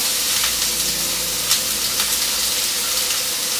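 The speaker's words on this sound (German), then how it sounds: "Als nächstes braten wir Zwiebeln an." Onions fry in a hot pan with a steady, bright sizzle and hiss that runs throughout, with a few sharper crackles and a faint stirring sound.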